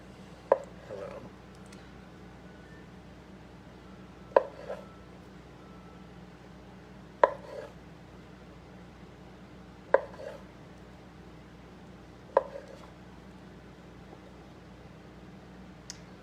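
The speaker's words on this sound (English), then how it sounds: "lots and lots of potatoes to cut, and no little children's hands to do it for me" A kitchen knife cuts through red potatoes for potato salad, giving six sharp, isolated chops spaced a few seconds apart over a quiet room hum.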